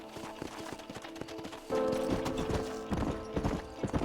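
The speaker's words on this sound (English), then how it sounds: "On the sheriff's horse." Horse galloping in the video game Red Dead Redemption, with rapid rhythmic hoofbeats clip-clopping steadily under a low musical drone that swells midway, fairly close and moderately loud.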